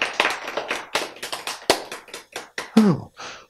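Short burst of hand clapping from a church lecture audience, a quick uneven patter of claps lasting a few seconds, close and fairly loud, with a brief murmur near the end.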